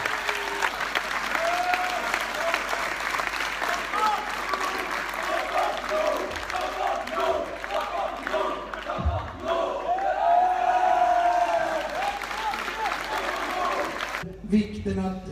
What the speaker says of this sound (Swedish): Genom en stor applåd.